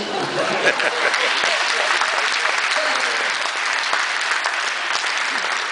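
A full hall applauds continuously at a city awards gala in Sosnowiec, a thick even wash of many hands clapping with a few louder individual claps near the front.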